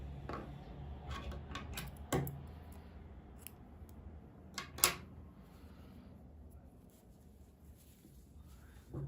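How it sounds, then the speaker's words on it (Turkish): Scissors snip through crochet yarn on a baby girl's sweater vest, giving a few sharp, close clicks that stand out against quiet background noise, with no talking. "İpliği kesiyorum."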